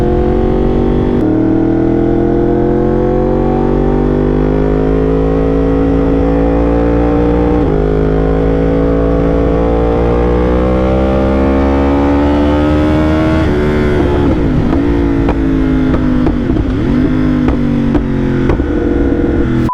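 Yamaha R1 sport bike ridden on the road, a loud, close engine drone rising steadily in pitch through the gears, with a brief shift and revs rising and falling near the end.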